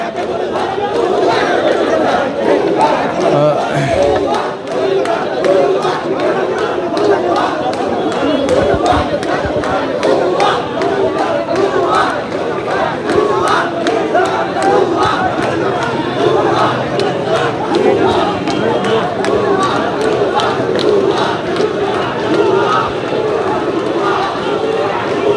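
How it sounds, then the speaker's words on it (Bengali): Dhaka College students chanting 'bhuya' slogans at army troops on campus: a loud, dense crowd roar of shouting voices running continuously throughout, with chanting and chatter merging into one sustained din. "সেনাবাহিনীকে লক্ষ্য করে ঢাকা কলেজের যে শিক্ষার্থীরা তারা কিন্তু ভুয়া স্লোগান তুলছেন"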